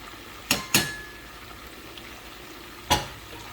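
Beans fry in vegetable oil for a Nigerian vegan dish, a faint, steady sizzle broken by three sharp clatters of a utensil against the pan.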